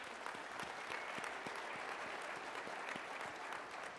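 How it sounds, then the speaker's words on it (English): Audience applause fills a hall at a 2023 collegiate track and field awards presentation, a steady dense clapping that runs throughout at moderate level with no talk over it. "everybody's clapping"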